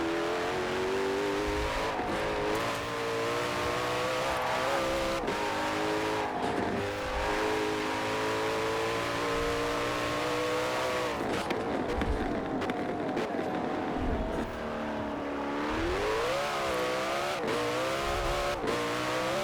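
Koenigsegg Jesko hypercar in Forza Horizon 4 revving hard toward 9,000 RPM, a loud continuous engine howl with rising and falling harmonic sweeps and gear changes throughout, close and steady with no pauses.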